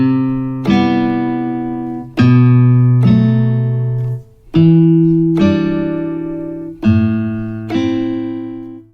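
An unplugged Aeroband guitar strummed acoustically, about seven separate chords each ringing and decaying before the next, close, fairly loud and with no talking.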